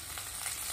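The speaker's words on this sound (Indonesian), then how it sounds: "Kita tumis sampai bumbu mateng, bau harum." Spice paste sautéing in a pan for goat offal tongseng, a brief steady bright sizzle and crackle of frying, close and even with no voice.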